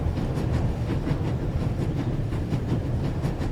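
A train in the video game The Raven rushes along at full speed, a loud, rumbling, continuous roar with faint rhythmic clatter and no talking.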